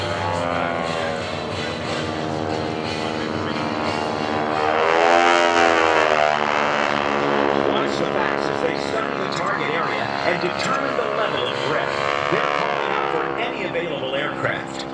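Forward air controller propeller aircraft pass overhead at a Blue Angels homecoming airshow, a steady engine drone swelling and fading beneath continuous public-address narration.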